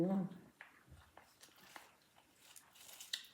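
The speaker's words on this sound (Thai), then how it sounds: "เคี้ยวไปโดนพริกเม็ดโอ้โห" Close, wet chewing of spicy tilapia larb with whole and ground chili, with scattered crunchy bites and mouth clicks over a steady low background.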